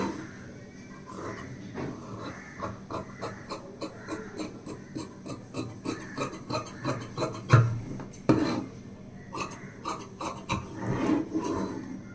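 Scissors cut through blouse lining fabric in a steady series of crisp snips, close and regular, with no talking.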